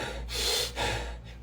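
Imitated panting, hyperventilating breaths of an anxiety attack, performed by a voice: two long, loud, breathy gasps in quick succession with a short pause between.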